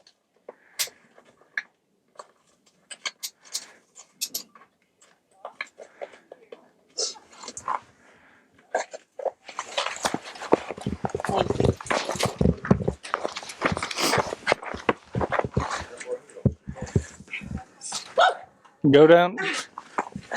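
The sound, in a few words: dog on a forest hiking trail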